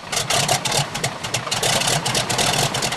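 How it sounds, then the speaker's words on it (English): A 600 horsepower Pratt & Whitney aircraft engine runs with a loud, steady, throbbing roar full of rapid pulsing, close by and continuous. "With a 600 horsepower Pratt & Whitney engine at his fingertips, Altman does what he does best."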